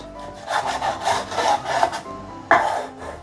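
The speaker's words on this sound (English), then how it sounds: "cut them into strips like this first" A knife slices through pork for sweet and sour pork, making several rhythmic scraping strokes against a wooden cutting board, followed by a sharper knock of the blade.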